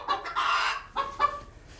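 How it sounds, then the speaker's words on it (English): A bantam rooster being handled and re-crated squawks and screams in several loud, harsh bursts, with a long cry followed by two shorter shrieks, close up and with no talk. "But the bantams, as you just saw, they just keep screaming"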